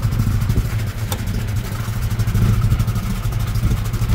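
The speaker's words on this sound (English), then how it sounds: "give her a little rev, Jacko. She's got a bit of a rattle there somewhere" A track-prepared 1990 Rover Mini racing car with a 1275 engine and Weber carburettor revs steadily up close, its loud, throaty drone carrying a faint metallic rattle throughout.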